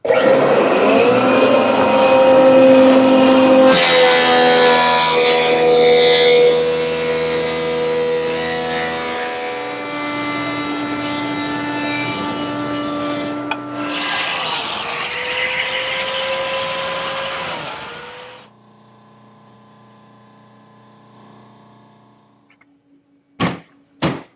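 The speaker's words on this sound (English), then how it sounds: "I can now turn to my surface planer to bring the boards to the thickness I want." A surface planer feeds boards through to thickness them, its motor whining loudly with a harsh cutting roar across several passes, then spinning down, followed by a few sharp knocks.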